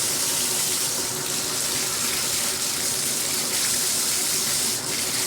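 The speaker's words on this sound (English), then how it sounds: "now hopefully when we turn on the water, when we turn it to the left, it will be hot" Water runs steadily from a Moen shower or tub faucet just after a cartridge repair, a continuous broadband hiss and splash that stays close and even throughout with no talking.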